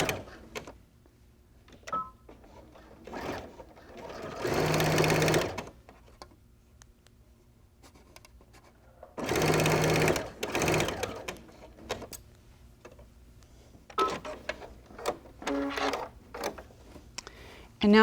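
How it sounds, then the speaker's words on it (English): A sewing machine stitches a handbag handle in two loud, steady runs separated by quiet pauses filled with light handling noises and a speaking voice. "Take it back to the machine. And stitch right on the line that we sewed before."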